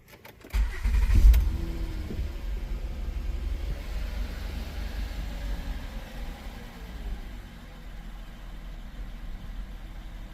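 A Honda Pilot engine cranks and fires with a loud burst near the start, then settles into a steady, close idle that continues for the rest of the clip.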